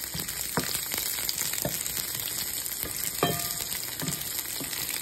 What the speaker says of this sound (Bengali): আমের টুকরোগুলো দিয়ে আমি এটা ভালো করে নেড়ে চেড়ে আমটাকে নরম হতে দেবো।